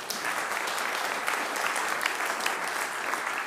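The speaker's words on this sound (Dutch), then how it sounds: "mag ik een applaus?" Steady applause from an audience at a talk event, many hands clapping together at moderate volume, sustained and even from start to finish with no voices over it.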